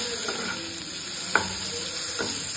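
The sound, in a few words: chopped tomato frying and stirred in pan with onion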